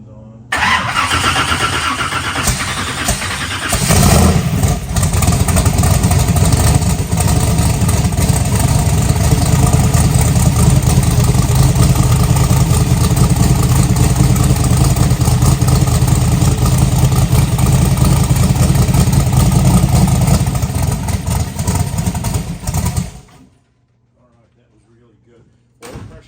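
Drag car engine with a homemade intake manifold cranks and fires up, settling into a loud, steady, rumbling idle close by that runs for about twenty seconds before cutting off abruptly, leaving near silence.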